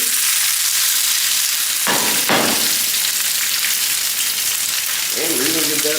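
Steak fajita ingredients fry in olive oil in a pan with a loud, steady, dense sizzle, broken by a brief clatter of stirring around the middle; no voices.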